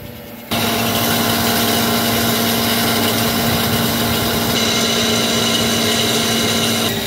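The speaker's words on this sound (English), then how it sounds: "Hear a little rattling out of that compressor." A cooler compressor switching on and running with a loud, steady mechanical drone and a low hum, carrying a faint continuous rattle, close by and with no talking.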